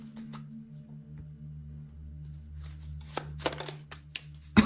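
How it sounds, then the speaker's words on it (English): Little Mermaid oracle cards are shuffled in quiet, soft riffles with a few crisp flicks near the end over a faint background hum. "So let's go ahead and pull out little mermaid cards here."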